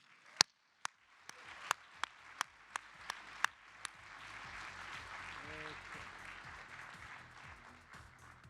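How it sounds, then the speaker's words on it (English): An audience at a TOP500 supercomputer ranking presentation applauds Frontier and the Oak Ridge team. A few sharp, evenly spaced claps open, then swell into a softer, dense patter of clapping from many hands. "So a big round of applause for Frontier and the Oak Ridge team."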